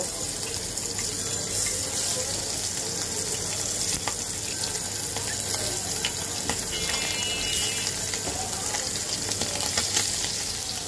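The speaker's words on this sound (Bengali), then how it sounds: "এখন আমি এক এক করে মাছটাকে ভেজে নেব।" Tengra fish seasoned with salt and turmeric frying in hot oil, a steady, dense, close sizzle that holds evenly throughout with faint clinks and no talk.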